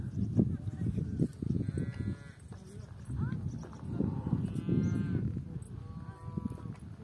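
Cattle grazing in an alpine meadow in Dilijan National Park give a few low moos and lowing calls, fairly close, mixed with other livestock bleats and a soft outdoor background.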